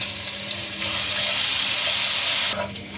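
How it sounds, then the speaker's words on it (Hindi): Garlic ginger paste fries in hot oil with spices for palak gosht, a loud steady sizzle that swells and then drops off sharply near the end, with no talking. "1 टेबलस्पून लहसुन अदरक पेस्ट वो डालकर लहसुन अदरक पेस्ट को फ्राई कर लें"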